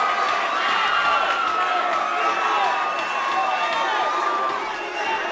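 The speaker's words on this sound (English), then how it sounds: "The crowd is on their feet." A boxing crowd in Tijuana, Mexico cheers loudly and steadily on its feet after a knockdown, a dense continuous roar of voices and whistles with no breaks.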